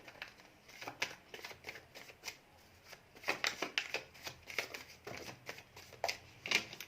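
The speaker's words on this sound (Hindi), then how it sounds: "बहुत सारे कार्ड्स हैं। Last shuffle" Tarot cards are shuffled close up in a rapid, uneven riffle of papery flutters and soft slaps, repeating in short bursts without a pause.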